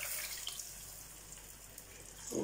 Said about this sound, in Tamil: நான் கரைச்சி வச்சுருந்தேன் இல்லையா மிளகாத்தூள் புளி உப்பு எல்லாம் அதை இதில் ஊற்ற